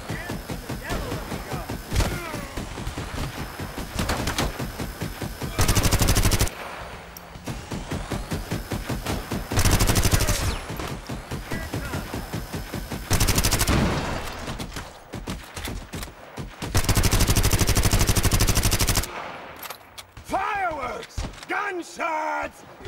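Video game gunfire in Garena Free City, with bursts of rapid machine gun fire and single shots alternating with loud sustained blasts, mixed with in-game voices and effects.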